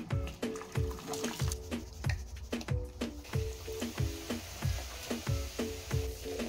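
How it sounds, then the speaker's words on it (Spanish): Hot water, baking soda and vinegar go down a sink drain, a repeating series of gurgling, dripping pulses with a low fizzy hiss, fairly close and quiet. "Esto no lo hago sin antes darle al desagüe su dosis de agua caliente,"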